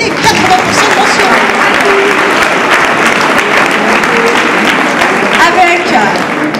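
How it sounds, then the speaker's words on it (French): Loud, continuous clapping from an audience at a school diploma ceremony, steady and close, with cheering voices and talk mixed into the applause. "vous pouvez vous applaudir et vous féliciter"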